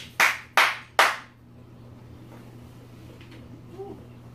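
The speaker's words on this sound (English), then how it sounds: "As you can tell, I'm clapping" Three sharp hand claps in quick succession, loud and close, followed by a quiet room with faint low hum and a soft distant sound near the end.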